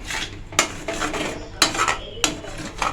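A spoon mixes Mysore pak batter in a metal pan, giving three sharp clanks, each followed by a grainy scraping sweep, loud and close against a soft background hiss.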